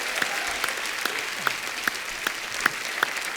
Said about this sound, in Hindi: चलिए एक बार डॉक्टर साहब के लिए जोरदार तालियां हो जाए।